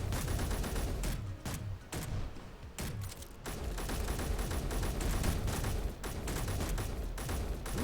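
Dense, continuous gunfire from a Space Engineers ship fight, rapid overlapping shots forming a loud sustained barrage for several seconds with only brief gaps.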